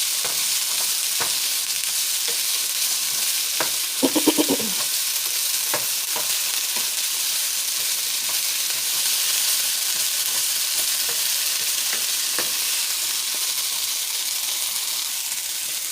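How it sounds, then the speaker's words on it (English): Spinach, bell pepper and onion sauté in a little oil in a pan, a continuous soft sizzle and hiss throughout, with a few brief clinks of stirring partway through. "I'm gonna let that saute for a bit"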